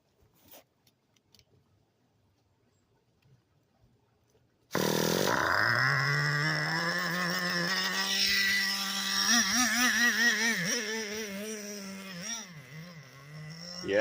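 A nitro-powered Traxxas Revo RC car engine starts after about five seconds of near silence, then runs loud and close with a buzzing, high-revving note that sags and surges as it bogs, with uneven dips toward the end.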